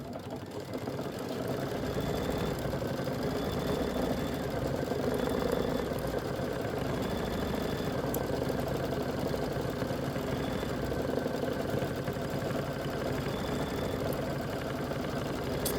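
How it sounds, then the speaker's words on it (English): A computerized embroidery machine runs a quilting stitch on a Kimberbell wallflower quilt block, giving a steady, continuous mechanical hum with a fast rhythmic stitching pulse, close and even throughout. "go ahead and hit start. It's going to do the quilting stitch for you"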